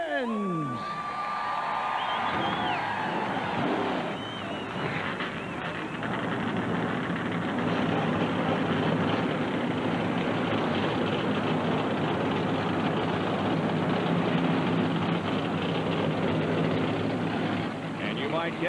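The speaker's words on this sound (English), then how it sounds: "Drivers, start your engines." NASCAR race car engines firing up together at the 1999 Las Vegas 400, a broad sustained roar from many cars building after an amplified voice and crowd cheering at the start.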